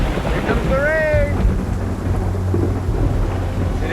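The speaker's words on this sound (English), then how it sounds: "Here comes the rain!" Steady rain hisses over a low rumble of distant thunder during a storm on the plains, with a brief whistling tone early on and the rumble persisting throughout.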